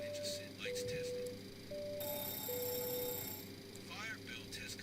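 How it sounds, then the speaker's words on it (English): A fire bell test in a Boeing 727 cockpit in a flight simulator, a steady electronic bell tone ringing in sustained bursts over a low cabin hum. "Fire bell test completed"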